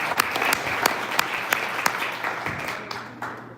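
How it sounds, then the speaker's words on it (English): Audience applause for a presenter at a live 1 Million Cups Detroit Metro pitch event, a steady, fairly close patter of many hands with sharp individual claps, tapering off toward the end. "To give a round of applause."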